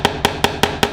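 A small hammer drives tiny nails into the track of a model railway layout, five sharp, evenly spaced taps coming close and clear with no talking.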